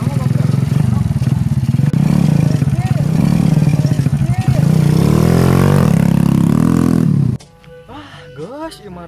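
A motorcycle engine runs loudly and revs, its pitch rising and falling, with people talking over it before it cuts off and quieter speech follows.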